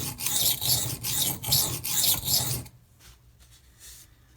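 A knife is stroked across a budget sharpening stone in about six quick, rhythmic rasping passes, close and loud, before the scraping stops and leaves near silence.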